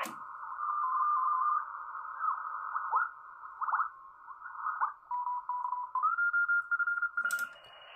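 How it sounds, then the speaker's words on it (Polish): Morse telegraphy comes through a Kenwood TS-820S receiver tuned across the CW band, with steady and wavering tones, short keyed chirps and choppy bursts over a faint hiss. The pitch shifts as the dial moves, and a brief burst of static sounds near the end. "Zobaczmy, co tam już słychać na wycinku telegraficznym."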